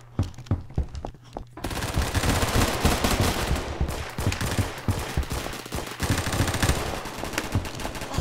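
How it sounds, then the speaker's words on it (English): Rapid automatic gunfire in Roblox, starting with a few separate shots and then breaking into a dense, continuous burst that stays loud to the end. "I'm just gonna go rapid fire."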